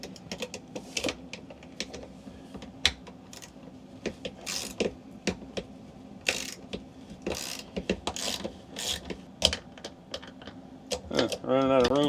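Socket wrench ratcheting on a lag screw during a fifth-wheel RV slide motor replacement, heard as a series of quick clicking bursts with some loud, close metallic taps and a faster rattling run at the end.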